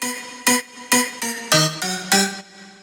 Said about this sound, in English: So I'm going to put a filter on the lead right here